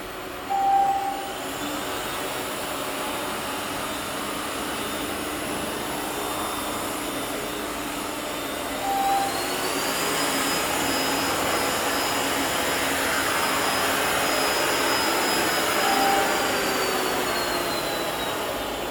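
Ecovacs X1 Omni robot vacuum running steadily at different suction levels, a continuous broadband whir with a tonal whine that steps up in pitch partway through, plus a few brief beeps; no talking.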